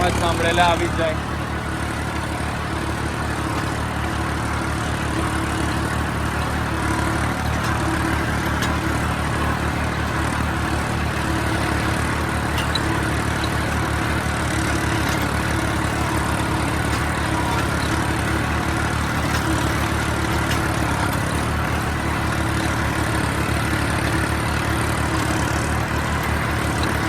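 A New Holland tractor works a rotavator, its engine making a steady, loud, unbroken drone with a constant rumble throughout.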